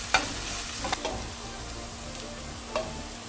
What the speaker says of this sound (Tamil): பச்சை வாசனை போகிற அளவுக்கு நம்ம வதக்கிக்கலாம் நல்லா.